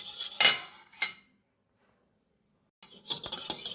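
A utensil clinks and scrapes against a bowl while oil and curd are mixed for an eggless plum cake, two short bursts of clatter, a pause of near silence, then more rapid clinking strokes, close and clear.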